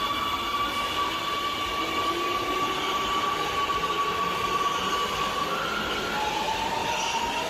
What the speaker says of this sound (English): Get on the train! Get on the train!